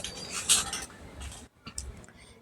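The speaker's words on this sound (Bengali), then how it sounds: "এখন একটা ছুরির সাহায্যে আমি টুকরো টুকরো করে কেটে নেব" Knife slicing potatoes into small pieces for French fries, a few close crisp cuts and taps of the blade on a board, with a short pause in the middle.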